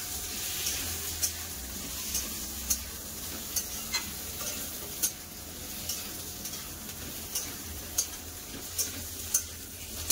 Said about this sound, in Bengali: আলুটা পেঁয়াজের সাথে ভালো করে ভেজে নেবো।